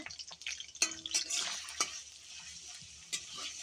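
Chopped onion, chili, garlic paste, shrimp and spinach are stirred in a hot pan, with scraping spatula strokes and clatters over a soft sizzle, close and without speech.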